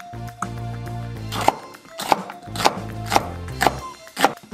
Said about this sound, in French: Et on coupe encore un petit morceau, un dé.